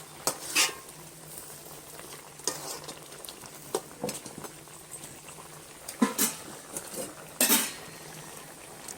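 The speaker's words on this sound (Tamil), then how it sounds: "ஒரு கிண்டி விடலாம்." Mutton curry simmering in a village-style clay pot is stirred in a few separate bursts of scraping, with a soft bubbling bed underneath and quiet pauses between strokes.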